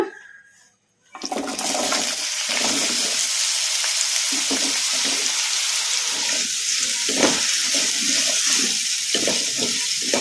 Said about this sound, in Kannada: ಈಗ ಇದಕ್ಕೆ ನಾವು ಕಟ್ ಮಾಡಿ ಇಟ್ಕೊಂಡಿದ್ವಲ್ಲ ಆಲೂಗಡ್ಡೆ ಈಗ ಇವನ್ನ ಹಾಕಿ ಫ್ರೈ ಮಾಡ್ಕೊಂಬಿಡೋಣ